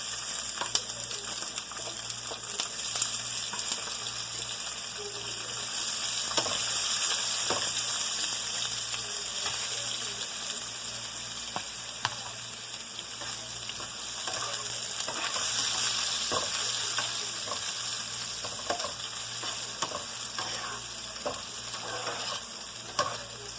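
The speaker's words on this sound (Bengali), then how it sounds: "এখন এখানে আমরা পেঁয়াজ ছেড়ে দেব।" Onions frying in a hot pan for a vegetable dish and being stirred, with a steady close sizzle and scraping stirring strokes running throughout, no voices.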